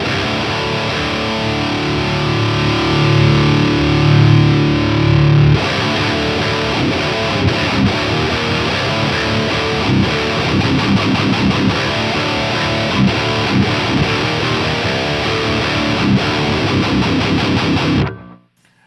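Loud, dense guitar-like tone through an AudioScape V108 JFET-coupled discrete preamp, slightly distorted and continuous, with a change in texture partway through, ending abruptly.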